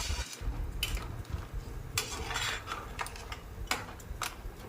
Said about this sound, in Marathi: आता हे सगळं एकजीव करून घेऊ